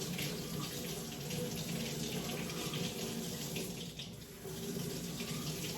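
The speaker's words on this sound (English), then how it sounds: "you have to wash this under lukewarm running water for at least a minute" Lukewarm water runs from a sink tap in a steady, close hiss and splash, continuous throughout with a slight dip near the end and no talking over it.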